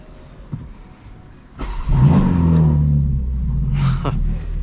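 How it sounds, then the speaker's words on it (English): A 2025 BMW M4 Competition tuned to about 900 hp fires up with a loud startup roar, a sharp bark swelling into a sustained deep rumble close by, with faint background noise before it. "there is a startup roar from MHD"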